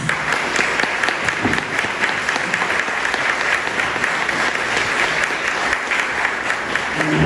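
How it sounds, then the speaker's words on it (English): Audience applause fills the room at a state senate runoff debate, a loud, continuous and even crackle of many hands clapping together for the candidates, with no talking over it. "Ladies and gentlemen, please help give these gentlemen a round of applause."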